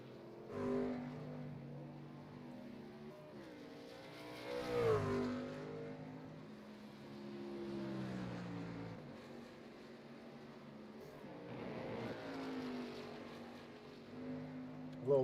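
Racing truck engines roar around Watkins Glen in an SCSRA Truck Series video game race: a steady, loud engine drone with revs that rise and fall, swelling as trucks pass near 5 and 12 seconds.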